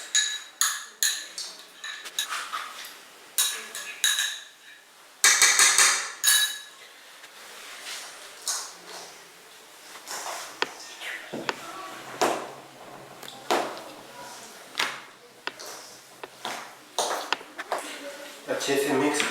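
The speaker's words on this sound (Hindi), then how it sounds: "तो लीजिए जी आलू हमारे मिक्स हो गए" Mashed potatoes stirred with mayonnaise and salt in a bowl for a fried croquette sandwich, Korean street-food style. A spoon knocks against the bowl in a steady repeating rhythm, with loud clinks and a person talking over the mixing.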